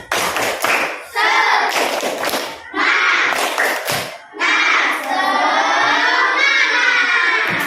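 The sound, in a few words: class of children doing the "tepuk semangat" clapping chant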